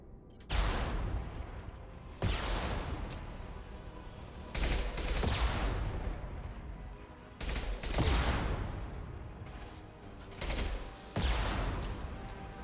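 A shotgun fired repeatedly in the Mass Effect 2 video game: five or six loud, close blasts arrive at uneven intervals, and each one trails off into a sustained roar of combat noise.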